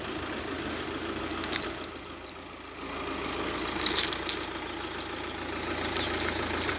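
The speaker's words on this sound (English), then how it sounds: "The rattly old diesel in the background." An old diesel engine idles with a rattly, knocking tone in the background of a garage, a steady low drone, with a few sharp metallic clinks partway through.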